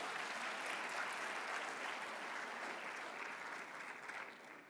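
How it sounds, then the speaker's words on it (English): An audience at an industry partnerships summit in a convention centre applauds, a sustained wash of clapping that holds steady for several seconds before slowly thinning out, heard from some distance. "Now, you have to give him a round of applause again, please."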